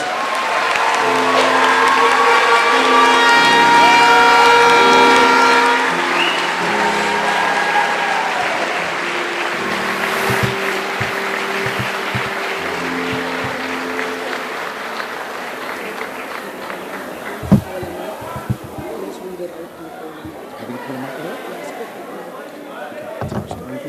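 Graduation ceremony audience applauding award recipients at The Berkeley Institute, a loud sustained round of clapping and crowd noise that gradually thins out, with murmured talk beneath.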